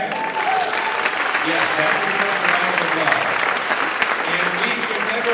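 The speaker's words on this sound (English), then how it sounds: "is a round of applause" An audience at a State of the Schools event breaks into steady, sustained applause, dense and close, with a voice speaking briefly over the clapping.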